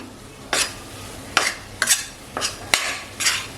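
Gram flour being dry-roasted in ghee on low heat for besan ladoo, with about six separate scraping strokes of a spoon against the pan over a soft background, close by and with no talk.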